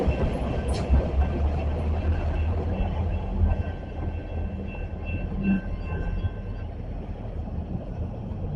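A passing train makes a steady low rumble with faint clatter throughout, fairly close and loud, with no talking.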